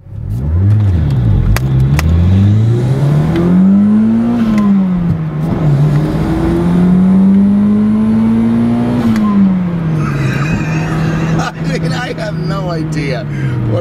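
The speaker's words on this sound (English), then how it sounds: "we'll do a little acceleration run when it turns green" A 1994 Toyota Celica GT-Four accelerates hard from a traffic light, its engine note climbing and falling through the gears in a loud, continuous rev with a shift near the end, while people talk throughout.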